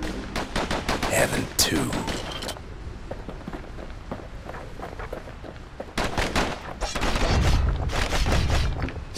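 Rapid bursts of slinger pistol fire from the video game Bastion crackle through the opening seconds and return louder near the end, with a brief line of talk partway through.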